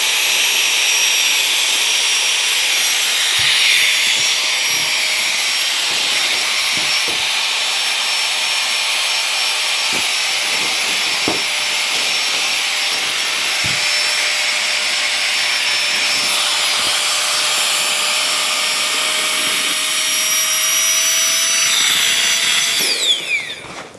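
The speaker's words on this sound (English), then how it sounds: "Really quick operation to inflate this entire mat." A Flextail Gear Max Pump 2 Pro inflates an air mattress through a rubber valve with a loud, steady high-pitched motorized whir that runs continuously up close, then cuts off at the end.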